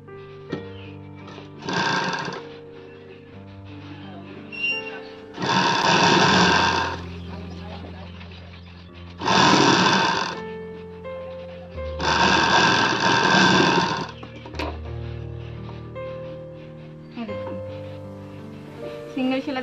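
A sewing machine stitches a frill sleeve in four distinct runs of fast, buzzing motor chatter, with a person speaking in the pauses between.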